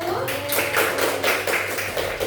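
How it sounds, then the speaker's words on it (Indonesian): A classroom of elementary pupils claps for a group, a burst of scattered, overlapping hand claps that continues evenly for a couple of seconds, close and fairly loud. "beri aplaus untuk kelompok 1"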